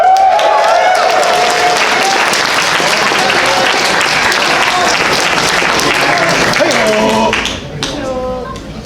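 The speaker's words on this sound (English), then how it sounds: "Give one last healthy, hearty round of applause for our musicians" A crowd at a convention opening ceremony applauds the musicians with a loud, dense wash of clapping that holds steady for several seconds before thinning out near the end, with voices audible underneath.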